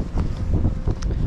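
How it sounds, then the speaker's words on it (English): Gusty wind buffeting the microphone at Blackhorse Road station in London, a low rumbling roar that rises and falls throughout the short moment. "It's very windy though."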